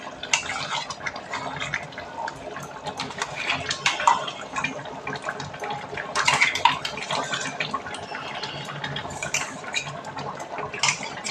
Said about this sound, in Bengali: এখানে পেঁয়াজ ভেজে আমি এই যে মশলা বানিয়ে নিচ্ছি